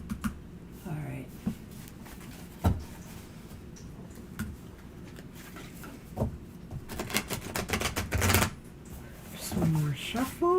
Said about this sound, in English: Just one more shuffle.